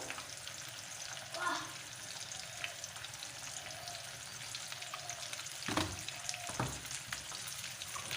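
Drumstick curry masala sizzles steadily in a pan over a high gas flame, a soft continuous fry with a few louder stirring scrapes.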